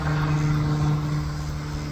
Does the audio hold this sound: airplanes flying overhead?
yes